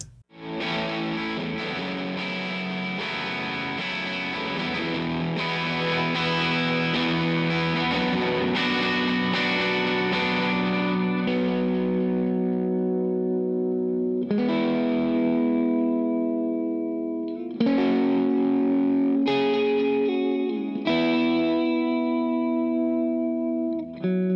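A distorted electric guitar plays alone, starting with dense strummed chords, then shifting to sustained, ringing power chords struck at intervals, loud and close.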